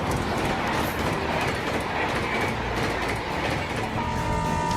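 A train runs along railway tracks, a loud, steady rumble with rhythmic clickety-clack of wheels and faint squeal, heard up close throughout.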